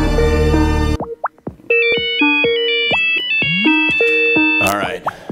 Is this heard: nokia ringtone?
yes